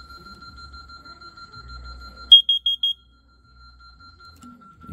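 A wired carbon monoxide detector alarm panel goes off indoors, giving four quick, loud beeps in a row over a steady faint tone, then falls silent.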